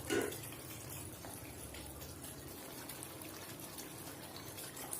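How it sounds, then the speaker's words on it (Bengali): Water splashes and pours steadily as a spatula is rinsed and water is added to a pan of til potol, a Bengali sesame and pointed gourd curry, making a continuous moderate gush for several seconds. "খুন্তিটা ধুয়ে একটু জল দিয়ে দিচ্ছি"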